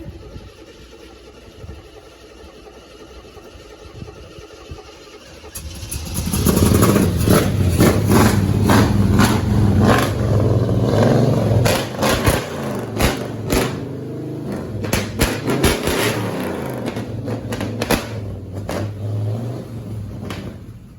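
An early 1970s four-door Chevy Nova, left sitting for decades with freshly filed distributor points, cranks and catches after a quiet stretch, then runs loud and rough with steady engine roar and scattered clattering for over fifteen seconds.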